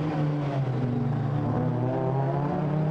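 GT4 race cars at Spa-Francorchamps heading down toward La Source, a sustained loud engine drone with steady harmonic tones holding nearly constant pitch, heard from trackside with no voices.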